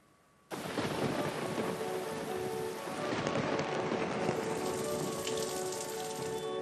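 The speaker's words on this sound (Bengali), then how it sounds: "আকাশের মুখ ভার, রাত থেকে দফায় দফায় বৃষ্টি" Steady heavy rain falls on surfaces during a low-pressure downpour, starting abruptly and continuing as a dense, even roar with low rumbling thunder underneath.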